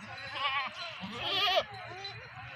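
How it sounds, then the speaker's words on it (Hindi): A Rajanpuri ablak goat bleats twice in a wavering, nasal call at moderate distance, over a quiet farmyard background with faint murmuring. "और ये नंबर 6 बकरी आ रही है माशाल्लाह"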